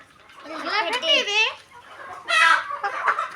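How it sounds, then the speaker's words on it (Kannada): Native country chickens cluck and squawk nearby on a poultry farm in a few loud bursts, with a voice mixed in. "ಇಲ್ಲಿ ನಾಟಿ ಕೋಳಿ ಇದೆ, ಕೆಂಪದಾಗಿದೆ ನೋಡಿ"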